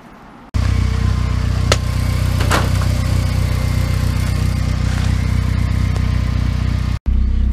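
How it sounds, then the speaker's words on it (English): A car engine running steadily in third gear while a new ACT clutch is slipped for a hard break-in, a loud, even mid-pitched drone holding nearly constant for several seconds before cutting off abruptly. "Got to have the car in third gear, and basically you have to let the clutch slip."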